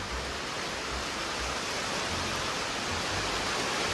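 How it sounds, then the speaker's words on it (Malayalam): Heavy rain pours down steadily in a dense, even hiss that fills the whole stretch, close and constant with a faint low rumble beneath and no voices. "നല്ല ഉഗ്ര മഴ വരുന്നുണ്ട്. അതിൻ്റെ സൗണ്ട് നന്നായിട്ട് കേൾക്കാൻ പറ്റുന്നുണ്ട്."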